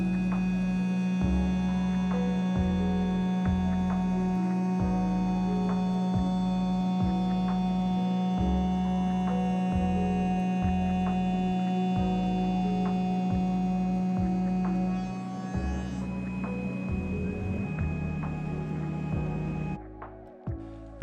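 A CNC mill facing a part at 1200 RPM and 25 inches per minute, a loud steady machining hum with rhythmic pulsing from the cutter passes, continuing throughout before easing near the end.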